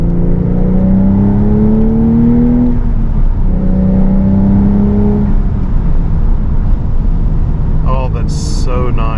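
A 2023 Porsche 911 Targa 4 GTS with a manual transmission cruises in fifth gear, its engine a steady loud drone that dips and rises as the car pulls along, with a short burst of talk near the end.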